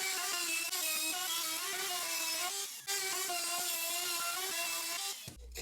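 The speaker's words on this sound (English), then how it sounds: "I'll use a rabbeting bit in the trim router, taking multiple passes to get to our final depth" A trim router fitted with a rabbeting bit cuts into a cherry wood frame, a loud continuous high whine with shifting pitch that drops off briefly near the end.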